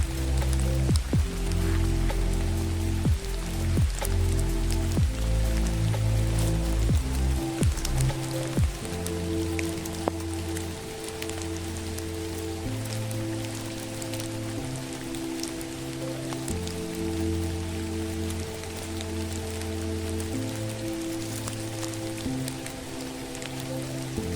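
Steady rain pours down at night on a mountain hiking trail, a dense continuous patter of drops on surfaces, loud and close throughout with no voices.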